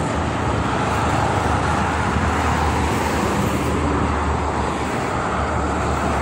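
Steady, continuous traffic roar on the Jakarta–Cikampek toll road in the morning, with a low engine rumble, vehicles passing in a dense unbroken wash of noise, no voices.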